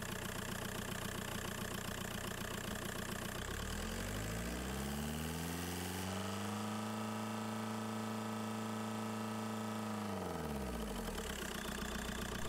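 A Skoda Fabia engine idles during a Bosch alternator rectifier test, a steady mechanical hum whose pitch dips and then rises again midway as the revs change, with no talking.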